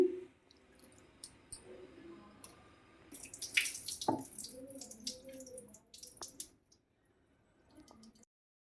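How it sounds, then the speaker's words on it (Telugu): Water sloshes and drips as sago is rinsed in a bowl, with soft squishing and a few clicks, fairly quiet and close. "సగ్గుబియ్యం కూడా ఊరికే ఇలా జస్ట్ ఇలా అని వాటర్ మార్చేసి కడిగేసుకుందామండి"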